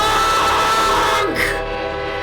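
A long, steady ship horn drones from overhead, its sustained tonal hum loud and unbroken before easing slightly toward the end.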